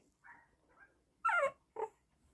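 Small Yorkshire terrier puppy, about four and a half weeks old, gives soft whimpers and short whiny yelps in a quiet room, a few brief cries with two louder ones near the end.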